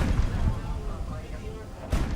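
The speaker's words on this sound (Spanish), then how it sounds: "Los cañoneros están respondiendo el fuego, pero sus disparos quedan muy cortos." Gunboats fire their guns during a naval battle in the Persian Gulf, with deep booms over a continuous heavy rumble, one strong blast at the start and another near the end.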